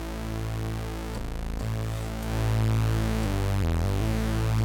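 Thick, sustained analog synth tone stacked from three oscillators, holding steady with a dense, buzzy harmonic spread and shifting slightly in pitch and texture partway through, played alone with no voices.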